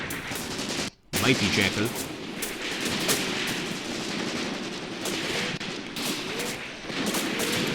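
Machine guns rattle in rapid, continuous bursts during a battle in the war game Graviteam Tactics: Mius Front, with a brief dropout near the start and a voice speaking over the loud gunfire.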